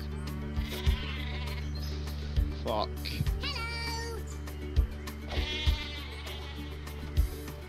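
The sheep weapon from Worms Revolution bleats over a steady game-music bed. Several short bleats sound at intervals, mixed with a lone spoken expletive.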